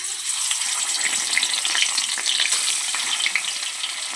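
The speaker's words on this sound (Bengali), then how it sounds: "কড়াতে তেল গরম হয়ে গেছে, তো মাছগুলো দিয়ে দেবো" Very small bata fish dropped into hot oil in a kadai, a dense, steady crackling sizzle with fine popping spatter, close and fairly loud throughout with no voices.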